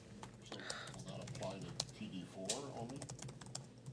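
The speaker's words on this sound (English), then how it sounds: "she's typing it out" Someone types on a computer keyboard at a town planning and zoning commission meeting, a run of quick clicking keystrokes while people talk nearby.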